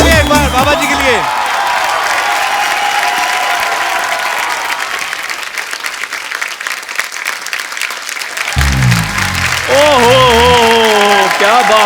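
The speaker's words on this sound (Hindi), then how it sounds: "ये जोरदार ताली एक बार बाबा जी के लिए" A studio audience on a Hindi comedy talk show gives loud, sustained applause with scattered cheers for Baba Ramdev, the clapping fading in the middle before swelling again near the end.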